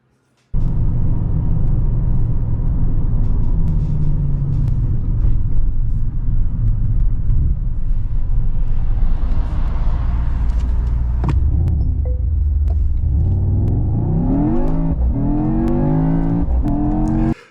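A Mercedes-AMG GT 63 S E Performance accelerating hard, a loud, steady engine roar that climbs through the gears with rising pitch sweeps near the end, continuous and close with no talk over it.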